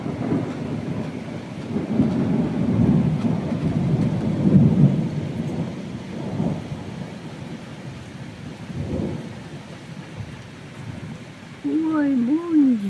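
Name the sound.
spring rain shower with thunder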